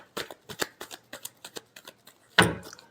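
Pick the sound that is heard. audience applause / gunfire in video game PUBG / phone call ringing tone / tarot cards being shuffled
tarot cards being shuffled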